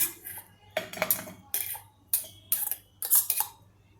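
A metal cooking pot is handled for a cucumber pickle recipe, giving a run of bright clanks and scraping knocks in quick irregular bursts, close and crisp, with no talking.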